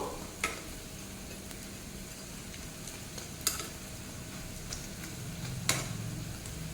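Pumpkin flower fritters frying in oil over a low flame, a soft steady sizzle broken by a few sharp clicks and scrapes of a spatula against the pan.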